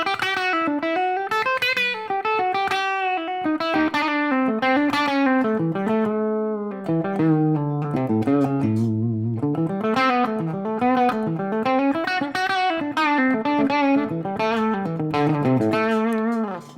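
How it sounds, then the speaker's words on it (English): Distorted electric guitar solo with repeated string bends sliding up and down in pitch, sustained notes and quick phrases, played loud and clear with no talking. "Right, we start doing the bends."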